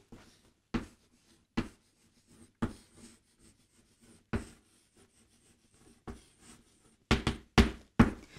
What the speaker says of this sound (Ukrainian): Запишемо відповідь.